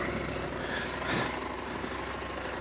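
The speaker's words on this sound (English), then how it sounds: "Very throaty engine." A Husqvarna Norden 901 Expedition motorcycle engine idles with a steady, throaty rumble, continuous and close throughout with no talk.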